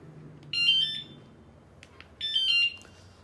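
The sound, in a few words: scooter anti-theft alarm sounding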